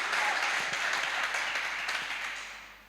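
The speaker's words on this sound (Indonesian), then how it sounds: "Kita berikan tepuk tangan yang meriah." A church congregation gives steady, lively applause during a worship service, moderately distant and fading toward the end.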